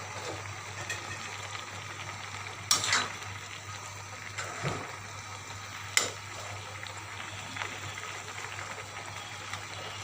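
Red amaranth curry with soil fish is stirred in a pan: a low, quiet simmering hiss with a couple of clear scraping clanks of the spoon against the pan, no talking.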